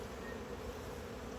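Honey bees hum at an open hive, a dense, continuous buzz from many insects close by, brief and steady with no speech over it.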